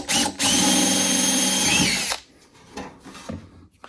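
A power drill with a number 30 bit zips through aluminum sheet metal in one loud, whining burst of about two seconds, followed by quieter handling clatter.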